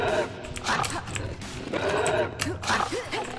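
A dog in the video game Final Exam barks and whimpers in short repeated yelps over a busy game soundtrack, moderately loud.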